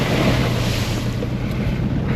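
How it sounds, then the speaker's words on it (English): Vehicle splashing through a puddle on a flooded track in the Simpson Desert after rain, heard as a steady, loud rush of water and road noise with strong wind buffeting throughout. "just went through a bit of a puddle then."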